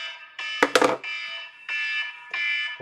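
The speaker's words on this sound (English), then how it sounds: "Set my alarm to remind me just in case I'm going on way too much" An iPhone alarm rings in repeated bright electronic tone bursts, interrupted partway through by a brief louder clatter of noise before the tone resumes.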